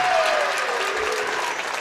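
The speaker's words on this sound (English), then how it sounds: "Round of applause for the Pacelli Cardinals on how well they played tonight." A crowd at a girls' high school regional basketball game applauds steadily, a dense wash of clapping that continues throughout at an even level.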